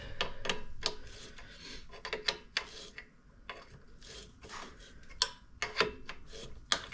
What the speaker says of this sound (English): We'll get these tightened down. A little stubby wrench here